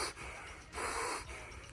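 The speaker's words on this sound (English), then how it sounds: "Another trick that can help you survive outside, breathing through your nose." A person breathing in through the nose, a few soft airy sniffs and breaths close to the microphone, quiet with no speech.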